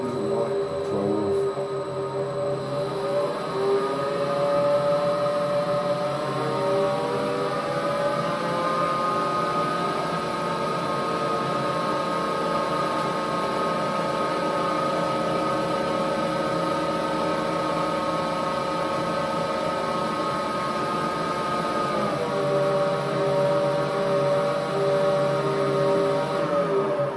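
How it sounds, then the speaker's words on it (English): A metal lathe runs with its gearbox disengaged, giving a steady, smooth mechanical hum with a faint high whine that holds evenly and close throughout, with no voices. "the lathe is a lot quieter and smoother when that gearbox isn't engaged"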